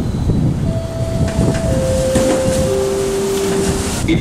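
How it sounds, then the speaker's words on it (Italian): Train pulling into Pisa Centrale station platform, a loud continuous rumble of wheels with rising and sliding high tonal squeals from the rails or brakes throughout. "8556 from Roma Termini with scheduled arrival at 6:37 PM is now arriving at platform 5."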